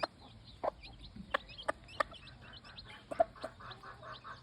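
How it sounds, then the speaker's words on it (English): Free-range gamefowl hens and chicks cluck and peep in scattered short calls, several sharp bursts over a quiet outdoor morning background. "just sharing some of these free range chicks here for this morning"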